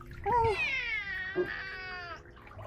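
A cat meows twice, drawn-out and whiny, close by over faint background noise.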